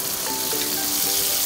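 Spices (bumbu) for an Indonesian goat bone soup fry in a pan with a steady, close, continuous sizzle and light crackle, heard alone without talk.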